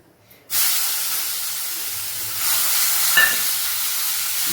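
Grated pumpkin for Kasi halwa drops into a hot pan and bursts into a loud, steady hiss of steam and sizzle after a brief quiet start, with a faint scrape of stirring partway through.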